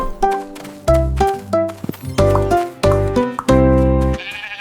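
Cartoon sheep bleat in a bouncy nursery-rhyme song set on Mars, a run of loud, tuneful bleats in short bursts over music.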